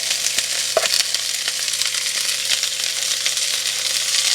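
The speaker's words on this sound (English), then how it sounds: "sauteing the onions and garlic." One onion and a clove of garlic saute in fat in a pan, giving a steady, close sizzle with scattered pops and light stirring clicks throughout.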